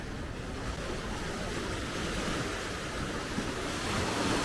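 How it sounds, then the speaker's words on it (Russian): Ocean surf breaks at a surfing spot on Bali's Bukit coast, a steady dense roar of waves mixed with wind buffeting the microphone, loud and continuous with no voices. "А вон там вдалеке волны, прям вау."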